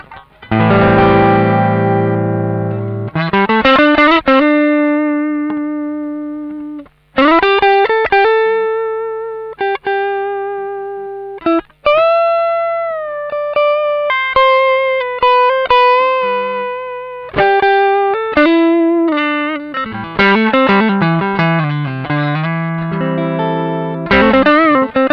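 Electric guitar through a Wampler Tumnus Deluxe transparent overdrive pedal, all knobs at noon and the toggle on normal, playing loud, mildly driven chords and single-note phrases over about 25 seconds with no talking.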